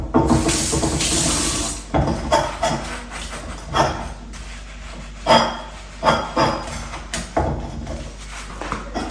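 Tap water runs into a sink while brass samai oil lamps are washed under it, a strong rush at first and then intermittent splashing, clinking and handling sounds close by.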